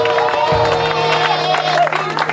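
A church congregation cheers and acclaims the Lord with loud, sustained crowd noise and whoops, voices blending into a dense roar throughout.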